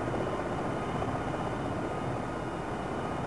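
Steady, loud helicopter rotor and engine drone in the Jane's Longbow 2 flight simulator game during a landing, continuous with no talk.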